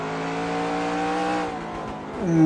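Street stock race car in NASCAR Racing 2003, around 700 horsepower, its engine holding a steady high-revving drone before dropping and rising again at the end, alone without talk.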